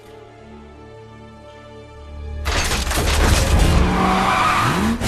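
After a quiet low hum, a Camaro abruptly roars off with loud tire skidding and squealing, a sustained, close, harsh burst of engine and rubber noise.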